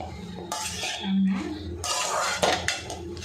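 A spoon stirs tomato rice with garlic in a pan, scraping and clinking against the metal in several close, uneven strokes with a brief tonal hum in between.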